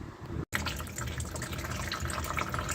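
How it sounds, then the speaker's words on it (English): Transmission fluid draining from underneath a 1958 Meteor, a continuous close trickling, splashing pour with a brief break near the start, no talk. "I got the transmission draining now"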